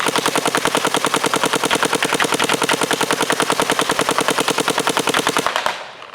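A paintball marker fires DEFY paintballs at a target in a long rapid, evenly spaced burst of sharp pops, close and loud, stopping abruptly near the end.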